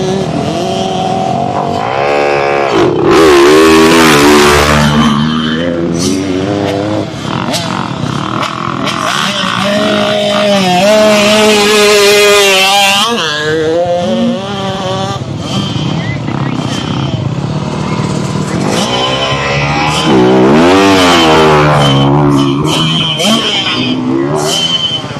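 Motocross dirt bike engine revving and surging on a muddy East Fork MX training track, loud and close with rising and falling throttle pitch, while a coach talks over it throughout.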